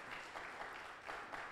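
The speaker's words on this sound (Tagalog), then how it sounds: "Yung palakpak para kay Lord." A church congregation claps together in praise during a worship service, a steady wash of many hands applauding at moderate distance with no talk over it.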